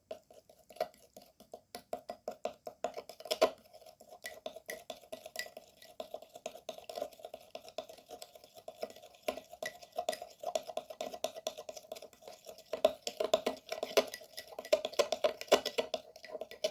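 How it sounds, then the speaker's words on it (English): Baking soda is stirred into a homemade skin paste in a small bowl, a soft, quiet, steady scraping and tapping that runs continuously, with no talk. "And now mix the ingredients very well."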